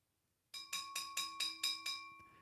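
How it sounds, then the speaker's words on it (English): A bell rung repeatedly on a live sports talk stream, seven bright metallic strikes in quick, even succession, each ringing on briefly with a steady tone, loud and close with no talk over it. "let's ring the bell"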